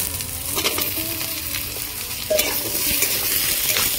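Potatoes frying with onions and chillies in a pan make a continuous close sizzle, with scraping stirring strokes and a sharper bump partway through.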